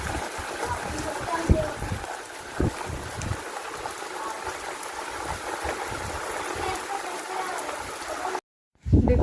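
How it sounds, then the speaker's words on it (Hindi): Heavy storm rain pours down in a dense, steady hiss with scattered louder splashes and drips, briefly cutting out near the end. "देखो कितनी तेज बारिश हो रही है।"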